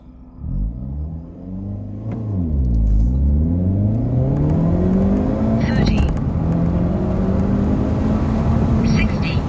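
A 2025 Hyundai Elantra N with a manual gearbox accelerates hard from a standstill to 60 mph: loud, close engine drone rising in pitch, dropping sharply at a gear shift, then climbing steadily again under continuous road rumble.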